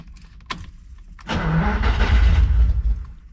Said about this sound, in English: Let's see if it'll fire up, because checked all the carburetors.